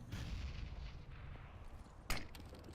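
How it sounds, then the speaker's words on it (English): A grenade explodes in a video game as one sharp, loud burst partway through. A dense, continuous wash of game combat noise runs underneath it. "Look at this grenade."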